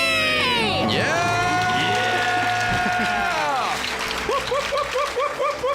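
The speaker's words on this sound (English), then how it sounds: "Let's hear a debt-free scream." A crowd lets out a loud, sustained scream and cheer celebrating paying off debt, starting at full volume, wavering, then tapering off into scattered excited shouts and rhythmic clapping.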